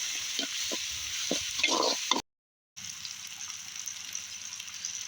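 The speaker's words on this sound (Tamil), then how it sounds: "இப்போ வந்து நம்ம நசுக்கி வச்சு இஞ்சி பூண்டு விழுது அதில் சேர்த்துக்கலாம் இது நல்லா வதங்குது" Crushed ginger-garlic paste sautéing in a pan for mutton thokku: a steady, close oily sizzle with a few soft stirring knocks, cut by a brief dropout to silence midway before the frying hiss resumes alone.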